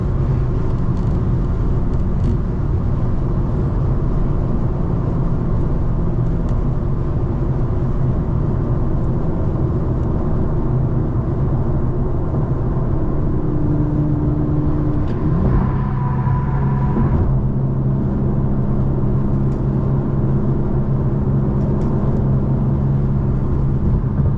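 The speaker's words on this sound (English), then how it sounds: "Bunch of cars coming up." Cars drive during a street race with a loud, continuous engine drone and rumble. A brief swell partway through suggests another car passing close by.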